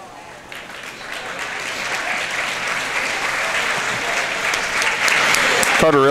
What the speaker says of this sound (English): Carter Elsner getting a hand from the crowd as he walks off the floor.